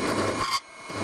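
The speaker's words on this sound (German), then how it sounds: "Und jetzt bohre ich einfach von diesem Punkt auf diesen." A drill bores through wood for a framed door, a loud, close whirring grind that cuts off abruptly and then gives way to quieter handling noise.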